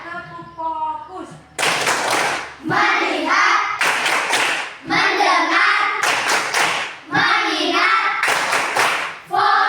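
A class of children claps in loud, rhythmic bursts on command, several quick claps per group, alternating with the children chanting words together between the bursts.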